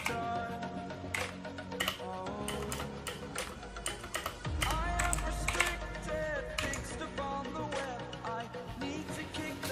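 Clicky typing on a Redragon Kumara K552 mechanical keyboard with blue switches, a rapid, irregular stream of sharp key clicks heard close up, with no talk over it.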